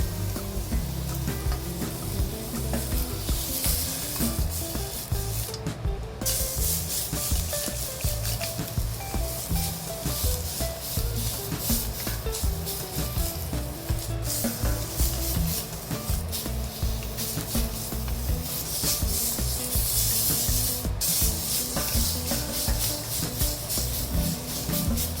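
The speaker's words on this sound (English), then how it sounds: "So you have to saute all sides and this side also." Char siu pork sautés in a pan, giving a steady, loud, continuous sizzle with occasional scraping and shifting as the meat is turned, close and without talk.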